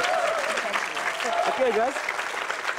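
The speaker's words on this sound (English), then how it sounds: "Let's give them a round of applause." A short burst of studio audience applause on a quiz show, moderate and steady for under three seconds, with the host speaking over it.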